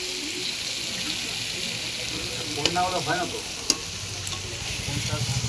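Crab fries in a spicy masala in a pan, a steady sizzle with stirring scrapes and a couple of sharp clinks midway, while people talk faintly in the background.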